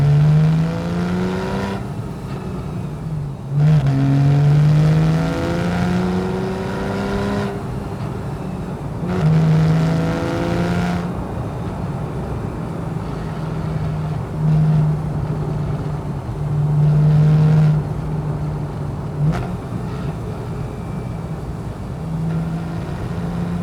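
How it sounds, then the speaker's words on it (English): Porsche 911 Carrera S (991.1) engine and exhaust roaring loud and close, rising and falling through repeated revs with deep burbles between bursts, no talking. "That incredible roar you get from the engine exhaust system, that sound is absolutely mesmerizing."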